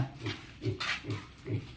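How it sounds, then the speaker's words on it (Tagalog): A pig grunts in a steady rhythm of low, close snorts while it eats, roughly four even grunts in quick succession with no talking. "Tropang baboy."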